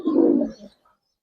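Giribaz silver pigeons give one short, close cooing call that fades out quickly, leaving silence.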